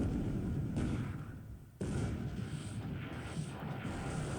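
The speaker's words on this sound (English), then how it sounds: "And finally a surface torpedo hit" A heavy surface torpedo strikes a ship at night in the War in the Pacific naval strategy game, a loud booming impact followed by a second sharp burst and a sustained rumbling roar.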